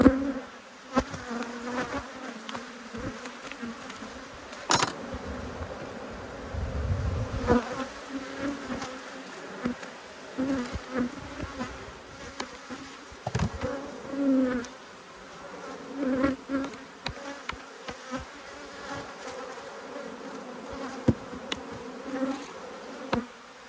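Stingy, agitated honeybees swirl around an opened hive as it is reassembled, a continuous buzzing haze punctuated by loud close fly-bys and occasional clunks of equipment.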